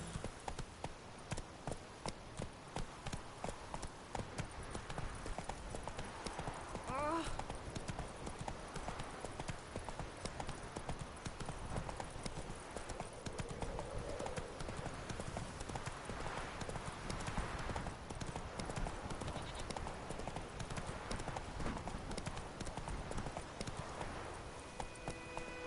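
Horse hooves clip-clopping in a PS4 video game, a quick, steady trotting rhythm of close hoof beats that continues throughout, with a brief game voice partway through.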